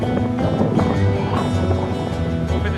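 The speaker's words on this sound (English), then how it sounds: "It's very windy too, as you can tell." Strong wind buffets the microphone on coastal sea cliffs, a loud continuous low roar and rumble with gusty fluctuations filling the whole short stretch, no voices.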